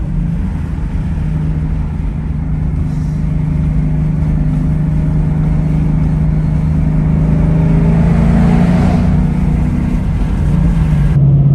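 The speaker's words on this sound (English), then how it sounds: "Listen, the exhaust is just, it's a low rumble at like 2100 RPMs, about 70 miles an hour" 2015 Ford Mustang GT exhaust cruising on the highway around 70 mph at about 2100 RPM: a steady, loud, low droning rumble with road noise, holding even throughout and swelling slightly near the end.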